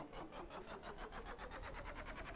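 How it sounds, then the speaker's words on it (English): A tank engine in the Stormworks game is being hand-cranked to start, giving a fast, even train of chugging mechanical pulses that holds steady and fairly quiet throughout. "This can start the engine with 0 electricity running throughout the entire system."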